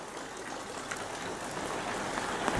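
Steady rain falling in Hong Kong, a dense, even hiss of drops on surfaces that continues unbroken throughout, with no voices.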